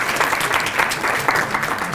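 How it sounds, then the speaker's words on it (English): Attendees at a legislative breakfast clap together, a brief, loud and dense burst of crowd applause with individual hand claps poking through, continuous for the whole moment and free of speech. "You can clap."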